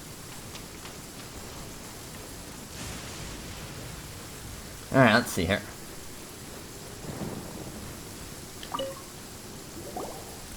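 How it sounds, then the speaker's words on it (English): In the video game Genshin Impact, a storm plays out with steady rain hiss and dripping, broken by a sharp thunder crack near the middle and fainter rumbles after, while a voice speaks briefly. "it's raining and thundering and lightning."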